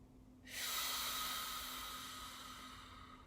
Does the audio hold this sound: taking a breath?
yes